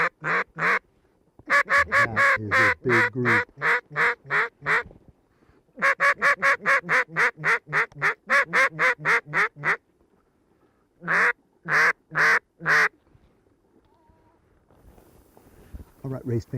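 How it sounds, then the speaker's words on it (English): Ducks quacking in rapid bursts of loud, close calls, several runs of repeated quacks separated by short pauses, with a voice briefly speaking between them. "we've got ducks in the area"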